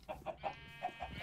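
A video-game chicken clucks in a quick run of five or six short, soft clucks, evenly spaced and alone without talk.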